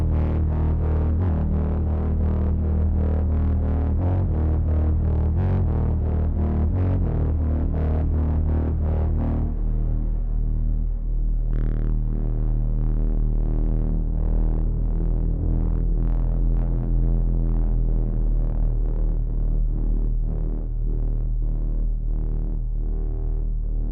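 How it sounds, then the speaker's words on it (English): A distorted, buzzy virtual soprano saxophone melody plays a series of notes, then sustains lower tones with a gritty, effected tone; no talking. "Let me add a little bit of like distortion to that."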